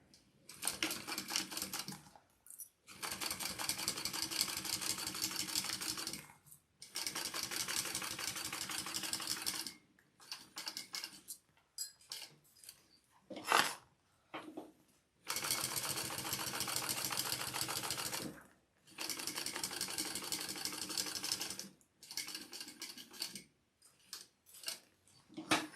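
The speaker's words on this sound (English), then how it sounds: "on this side, I want to go ahead and top stitch all the way around." Sewing machine top stitching all the way around the edge of a garment, run in several long steady bursts of rapid rhythmic stitching separated by brief pauses, close and clear with no talking.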